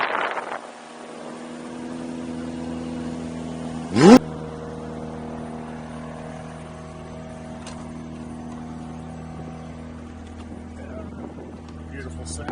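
A McLaren 765LT engine fires up with one sharp, loud bark, then settles into a steady, rich idle that drones on evenly with a few small swells, close by and with no talking over it.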